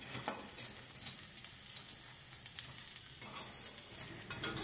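Ingredients sizzle and fry in a pan on a stove while being stirred, a constant crackling hiss with scraping spoon strokes and occasional light clinks, close and without speech.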